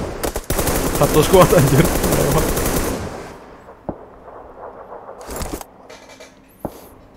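Automatic gunfire in PUBG Lite rattles loudly in a dense burst for about three seconds, followed by a few sharp isolated shots, with a player speaking briefly over the action.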